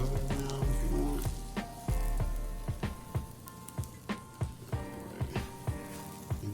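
Butter sizzling in a hot pan while French toast cooks, a steady frying hiss broken by a series of sharp, close clinks and taps at regular intervals.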